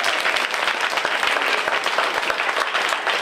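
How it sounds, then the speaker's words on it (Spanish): An audience at a puppet show in a Villafranca de los Barros cultural centre claps loudly and continuously, a dense, even wall of applause with no break. "¡Fuerte aplauso!"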